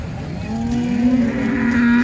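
A single long, low moo from a nearby cow at a cattle market, with faint background murmur of a busy outdoor space.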